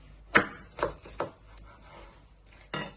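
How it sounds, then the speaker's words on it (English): A knife cuts through an onion on a board, halving it down the middle before trimming. Four distinct, fairly close chopping thuds come at uneven intervals with quiet gaps between them and no voices. "Then you chop it down the middle."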